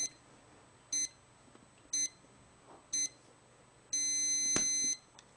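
A DGT960 chess clock gives its low-time warning: three short evenly spaced electronic beeps one second apart, then a longer sustained beep of about a second, clear and close in a quiet room.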